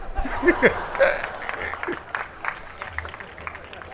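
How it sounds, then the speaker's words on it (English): Audience at a literature festival closing ceremony breaks into scattered applause mixed with chuckles and voices, loud at first and then trailing off into lighter clapping and crowd murmur. "So please carry on the applause."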